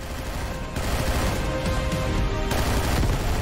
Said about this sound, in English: Got a legendary machine gun.